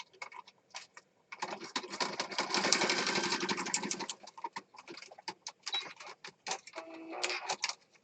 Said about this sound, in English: I'm going to go ahead and sew down this side here